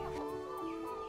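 Cemani chickens, a jet-black breed, cluck in a short, steady burst of layered tones that sounds close and continuous, with no voices.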